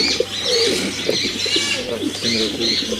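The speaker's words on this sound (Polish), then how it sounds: "to są gołębie od Rainera Putmana" Several racing pigeons coo in overlapping throaty phrases, with a few higher chirps mixed in, close and fairly loud, no talking.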